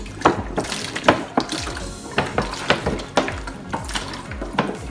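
Water swirls and sloshes in a plastic bottle twisted into a tornado vortex, making rhythmic gurgling glugs about twice a second, close and moderately loud, with no talking.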